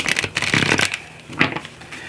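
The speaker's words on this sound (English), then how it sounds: "we're going to pull some tarot cards" Tarot cards shuffled and drawn for a reading: a quick run of papery riffling shuffles, then a quieter pause before a short slide and snap as a card is pulled, close and alone with no talking.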